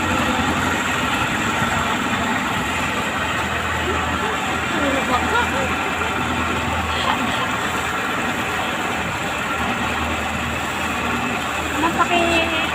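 A steady boat engine drones and idles throughout on Taal Lake, a low continuous rumble with voices talking faintly over it.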